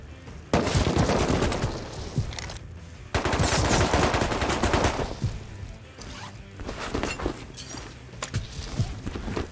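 AK assault rifle fire in the survival game Rust, two long loud bursts of rapid automatic shots close by, then scattered quieter shots trailing off, with no talk.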